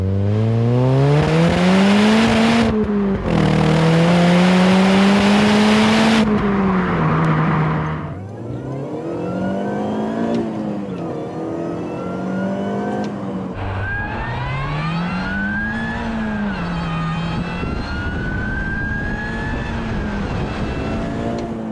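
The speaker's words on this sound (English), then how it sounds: "that supercharger whine is so much louder now." A supercharged MINI R53 Cooper S engine roars close by while driving, with a high, rising and falling supercharger whine that climbs with each acceleration and drops on gear changes, sustained throughout.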